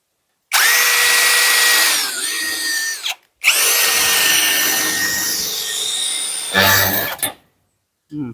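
A power drill runs in two long, loud bursts close by while drilling a pilot hole for a door lock, the second burst ending in a brief rough rattle.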